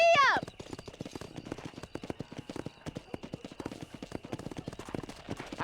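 A horse gallops in the video game Red Dead Redemption, with quick, close, rhythmic hoof clops that run throughout, opening with a brief high call.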